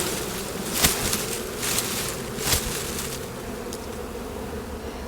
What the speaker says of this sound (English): There sure are a lot of bees all over the place.